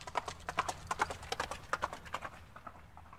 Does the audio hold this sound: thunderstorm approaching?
no